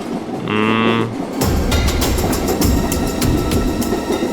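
A passenger train is on the move: a short tonal horn-like note sounds first, then loud, close, rhythmic wheel clatter rolls on steadily.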